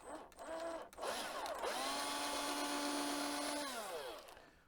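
A power drill with a 4.5 mm bit drills a hole into an Epson ET-2650 printer, whining steadily for several seconds, its pitch rising as it spins up and then winding down, close and loud.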